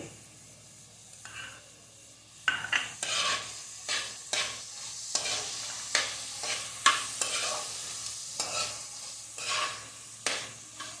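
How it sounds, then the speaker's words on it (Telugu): Banana stem curry gets stirred with salt in a pan, a soft sizzle underneath and a steady series of scraping, shuffling stirring strokes coming every second or so, close and fairly quiet. "కూరకి తగిన ఉప్పు వేసి బాగా కలపాలి"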